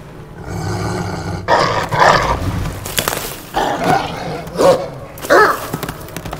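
A dog in the video game Assassin's Creed Valhalla, set in Asgard, gives several rough barks and growling roars in bursts over a steady low rumble of game ambience.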